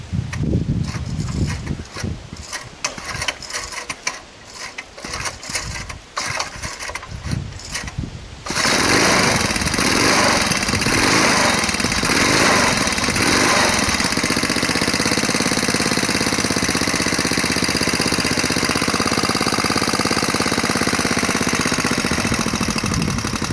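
A motorised vehicle's engine starts up about a third of the way through, then runs loud and steady in a continuous drone, close by, with no talk.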